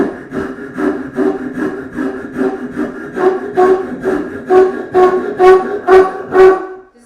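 A hand tool rasps back and forth through wood on a workbench during three-dimensional carving, in a steady rhythm of about a dozen strokes, each push buzzing as the whole bench vibrates, growing slightly louder toward the end before stopping.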